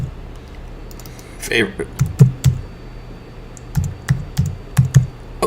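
Clusters of quick keystrokes on a computer keyboard arrive in short bursts with pauses between them, and a voice speaks briefly before the typing.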